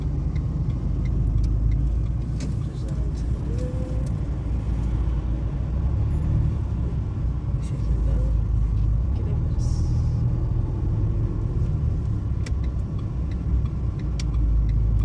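Car pulling away on a Kağıthane driving test course, a steady loud engine rumble running the whole time with road noise and occasional faint clicks, while people talk over it.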